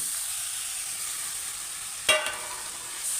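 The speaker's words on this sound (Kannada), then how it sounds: "ಎಲ್ಲನೂ ನೀರಿನ ಕಷ ಹೋಗೋ ತನಕ ಫ್ರೈ ಮಾಡಬೇಕು" Chopped cabbage sizzles steadily in a hot pan, with a brief scraping clatter of stirring partway through.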